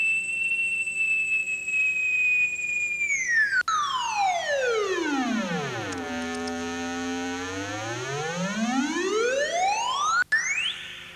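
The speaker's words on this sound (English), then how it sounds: "On the EWI, we use thumb pressure on this metal thumb plate like this" An Akai EWI wind synth holds a bright, buzzy tone that glides smoothly down in pitch, sits low, then sweeps back up, with the glide driven by thumb pressure on its metal plate; the note is steady and close, with no voices.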